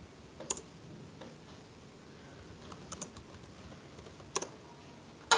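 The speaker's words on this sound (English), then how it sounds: "we'll type dot for everything in this folder." Sparse keystrokes on a computer keyboard while entering a git command, a few quiet isolated clicks spread apart with a sharper tap at the end, close and alone over a faint room hiss.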